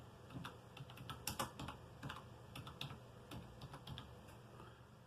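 Quick bursts of keystrokes on a computer keyboard while searching for Windows updates, close and fairly quiet, with uneven clusters of taps and brief pauses between them.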